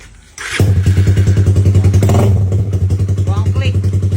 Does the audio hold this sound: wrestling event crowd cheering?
no